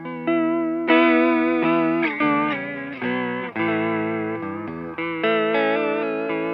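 Sustained electric guitar chords through a Fender Hammertone Chorus pedal on its lo-fi setting, with a warbling, wavering chorus shimmer and slightly gritty, low-fidelity tone, changing every second or so, played alone.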